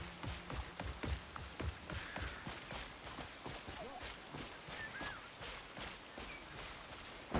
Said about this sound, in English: Now it's raining here in Paylone.